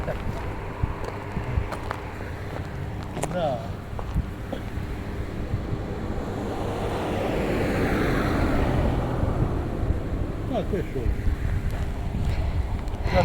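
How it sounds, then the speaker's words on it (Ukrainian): Strong wind in Kharkiv buffets and roars across the microphone, swelling louder midway, while a person briefly speaks over it. "Тільки що такий вітер дмухав"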